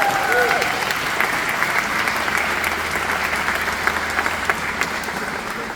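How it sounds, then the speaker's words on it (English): A crowd at the grand opening of a regional compost facility breaks into applause, a steady, even roar of many hands clapping for several seconds, with a low hum underneath. "Clapping."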